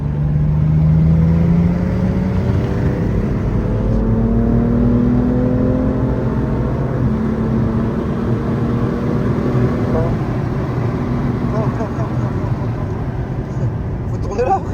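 A car accelerates hard around a race circuit, the engine drone rising in pitch through the gears in long sweeps, loud and continuous inside the cabin while people talk over it.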